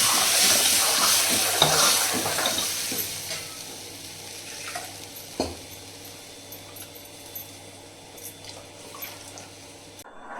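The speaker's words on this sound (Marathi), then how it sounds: "हे आता तडका दिला आपण." Tempering sizzles in hot oil for an Ekadashi fasting dish, a loud crackling fry with stirring and the clink of utensils against the pan, fading gradually over several seconds.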